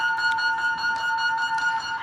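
Coded missile unlock message sent over radio as a steady electronic tone with faint rapid pulsing, moderately quiet and continuous for two seconds.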